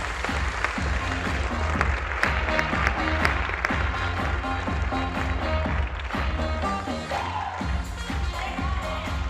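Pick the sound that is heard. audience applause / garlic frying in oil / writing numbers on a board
audience applause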